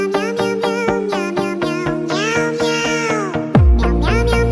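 Two cats meow back and forth in an argument, making loud, close, drawn-out cries that overlap and alternate in quick succession, with a sudden louder thump near the end.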